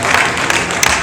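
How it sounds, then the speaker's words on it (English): Round of applause at an award ceremony, a dense burst of crowd clapping with a few sharper claps standing out, loud and close, lasting about a second. "A round of applause."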